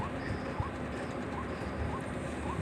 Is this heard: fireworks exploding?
no